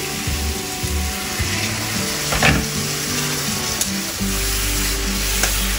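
Masala spices of meat masala, cumin and coriander powder frying in oil with a splash of water for chicken soup, a steady close sizzle with stirring scrapes throughout, growing louder and denser near the end.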